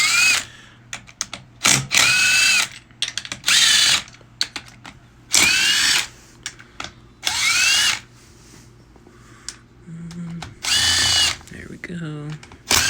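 A power drill backs out the 8mm clutch cover bolts on a 2006 Suzuki DR200 SE, sounding in loud whirring bursts of one to two seconds each, separated by pauses with small metallic clicks and handling noises.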